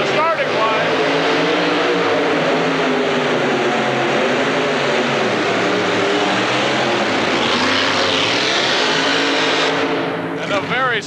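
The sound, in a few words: International two-wheel-drive pulling truck making a pull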